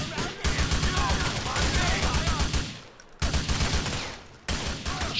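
Rapid automatic gunfire in the video game Grand Theft Auto IV, loud sustained bursts broken by a short pause and then resuming, with a voice talking over it.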